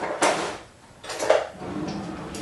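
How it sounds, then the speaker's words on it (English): A small metal spoon rattles among kitchen utensils as it is picked up, giving two distinct close clattering bursts of clinking metal followed by a faint trailing rustle. "I'm gonna take a small spoon."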